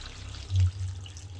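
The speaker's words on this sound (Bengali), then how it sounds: "এখানে গরম জলটা দিয়ে দিচ্ছি।" Hot water being poured into a pot of cooking mutton curry, a low splashing gush that swells briefly in the middle over a steady trickling background, close by and without talk.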